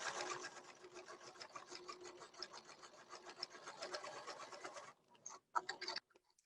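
A sewing machine stitches a reusable snack bag in a fast, even, quiet needle chatter for about five seconds, then stops in a few short bursts with faint handling noises.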